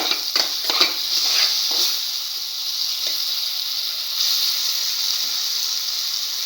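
Eggs and tomato with salt being stirred in a stir-fry pan, a steady bright sizzle throughout with a few quick scraping and clattering strokes near the start, then even hissing, close and moderately loud.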